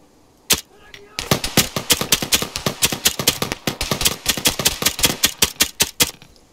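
Rapid automatic gunfire from a rifle in the video game Operation Flashpoint: Cold War Crisis: one shot, a short pause, then a long sustained burst of loud, closely spaced reports with no talking.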